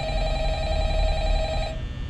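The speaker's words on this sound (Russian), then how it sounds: "Еще одним звуком, от которого больше вреда, чем пользы, это звонок так называемого телефонного парня." In the video game Five Nights at Freddy's, the phone guy's incoming call rings as a steady, loud electronic telephone tone that holds evenly and then cuts off abruptly just before the end.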